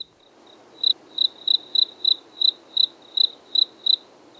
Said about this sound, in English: All you get is crickets.